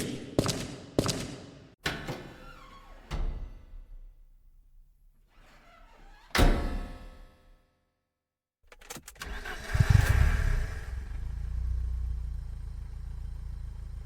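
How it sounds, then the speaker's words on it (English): Engine of a homemade car starting up after several sharp thuds and short cranking bursts, a pause, then catching into a low rumbling idle close by. "As you can hear, it's got the same engine as the same car from Blind Drive"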